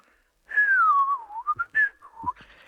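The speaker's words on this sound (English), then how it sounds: "The butcher started to whistle." A butcher whistles alone, a short, clear tune that glides downward and ends in a few quick chirps. It sounds close and fairly loud against a quiet background.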